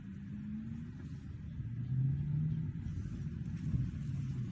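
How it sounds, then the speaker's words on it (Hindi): A stationary Tata car held on the brake, its engine giving a steady low rumble with a slight strained, pulling surge midway, continuous and close with no talking. "रुकी हुई गाड़ी क्यों एक्सीलेटर ले रही है? किस लिए मोटर पे दबाव आ रहा है?"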